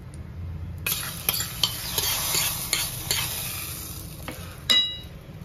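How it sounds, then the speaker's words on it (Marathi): Hot tadka tempering is poured over chickpea curry and sizzles steadily, with a spoon tapping and scraping the pan in a run of sharp knocks above the hiss. "हा तडका आपण छोलेच्या याच्यावर टाकून घ्यायचा मस्त"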